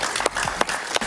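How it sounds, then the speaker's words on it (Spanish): Studio audience applause on a talk show before a break, a short burst of close clapping with a few sharp individual claps standing out. "Un aplauso."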